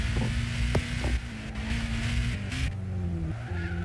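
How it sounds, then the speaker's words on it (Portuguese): A GT500 race car in the Gran Turismo 6 video game roars steadily at high revs, with tire squeal and skidding mixed in. The engine note stays loud and continuous throughout, with no speech over it. "Na descida aí o motor fala bonito."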